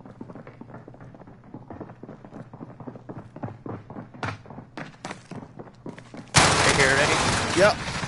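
Rapid gunfire in a video game, a rapid burst of sharp shots with a loud, dense blast of fire near the end, with players talking over it.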